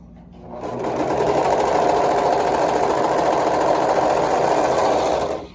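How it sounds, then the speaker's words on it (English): A serger overlock machine runs continuously while sewing stretch fabric, a loud, even high-speed whir that starts up, holds steady for several seconds close by, then stops. "I like to try to give it a little bit of a stretch as I sew it"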